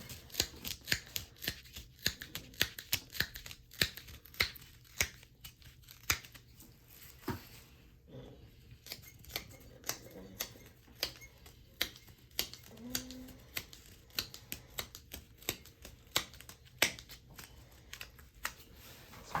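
Rapid, irregular snipping clicks from snips cutting off a fiberglass cast, close and crisp, continuing steadily with brief pauses and faint handling noises.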